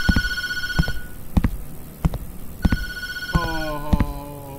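An electronic telephone in the horror video game Tattletail rings in repeated bursts with sharp clicks in between, loud and close, with no speech over it.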